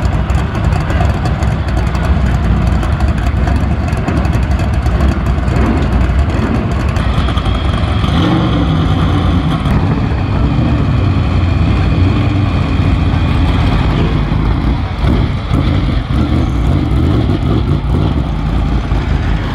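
Open-wheel BriSCA stock car engines roar continuously at the Kings Lynn oval during an evening race meeting, a loud, dense wall of engine noise that holds steady for the whole stretch.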